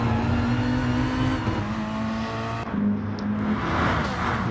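A Lamborghini and an Alfa Romeo race car in a sim racing game drone down the straight, engines holding a steady high whine near together, one slipstreaming the other, with a brief gear-change dip midway.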